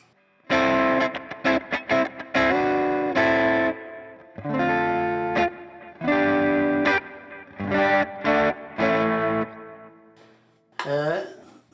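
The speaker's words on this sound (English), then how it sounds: "I'm just using a clean sound, no effects, going through my Ampero 1 neck pickup" Glarry guitar on the clean neck pickup through an Ampero, no effects: a series of strummed and picked chords with pauses between phrases, close and clear, ending in a brighter scraping flourish.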